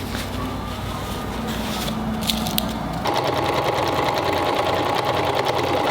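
A sewing machine stitches canvas for upcycled wood-and-canvas patio chairs, humming with a close, rapid mechanical whir; the motor tone shifts partway through and then runs on steadily.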